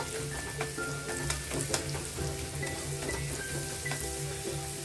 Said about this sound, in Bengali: আর রসুনটা একটু ভাজা হওয়ার জন্য অপেক্ষা করব